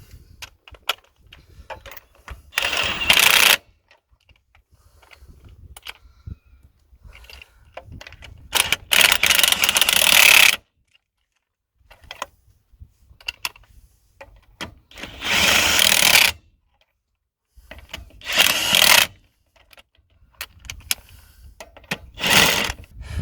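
A power tool tightens the wheel lug nuts on a Jeep during an off-road flat tire change, making about five loud, close whirring and rattling bursts separated by quiet gaps, with no talking.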